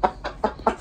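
A chicken clucks four times in quick, evenly spaced bursts, close and clear with no other sound around it.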